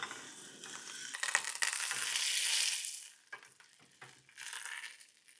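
Two sticks of butter melting in a pot on a stovetop give a steady soft sizzle and crackle, louder early on, then fading into quieter patches with occasional stirring scrapes.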